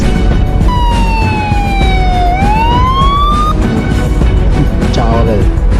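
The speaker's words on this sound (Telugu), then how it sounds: "అంబులెన్స్!" An ambulance siren wails in a long, clear sweep that falls and then rises again, ringing out loud over steady background noise during a tense scene in a Telugu short film.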